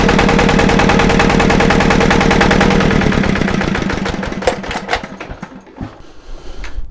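A heavy walk-behind tractor engine runs just after a cold start on a chilly day around plus five degrees, a loud rapid chugging that pulses steadily, then settles into a rougher, quieter idle with uneven knocks.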